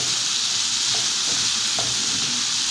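Sausage sizzles steadily in a pan with tomatoes as it is stirred, a dense continuous hiss with a couple of soft scrapes of the spoon; no voices.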